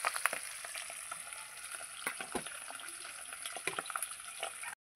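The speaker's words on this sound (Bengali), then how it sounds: "আবার যে কটা আছে আমি ভেজে নেবো একবারে।" Fish frying in a pan makes a moderate, continuous sizzle with scattered crackling pops and small bubbling bursts, then stops abruptly just before the end. Nobody speaks.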